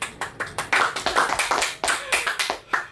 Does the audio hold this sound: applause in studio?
yes